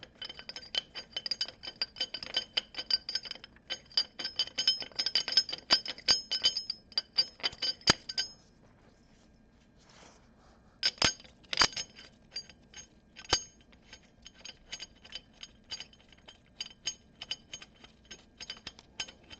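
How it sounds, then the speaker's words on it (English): Replacement bolts for a Traxxion Dynamics engine case guard on a Honda Goldwing clink and jingle as they are handled, a dense run of small metallic taps, a brief lull, then scattered sharper clinks. "Okay, now I can put in the replacement bolts."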